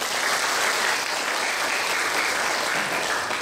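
A church congregation applauds during a feast-day Mass celebrating Saint Joseph the Worker, with thick, continuous clapping filling the space at a loud, even level from start to finish.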